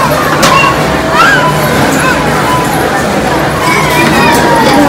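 Busy crowd of shoppers inside a crowded DMart store during school shopping, a loud continuous hum of voices and movement with occasional higher chirps and clatter nearby.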